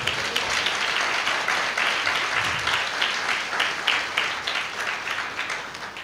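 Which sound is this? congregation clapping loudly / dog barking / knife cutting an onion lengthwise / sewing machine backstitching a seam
congregation clapping loudly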